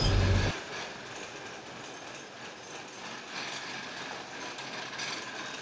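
A Lisbon tram runs along its rails with a steady low rumble and faint rattling, moderately near, following a brief louder thump at the start; no voices.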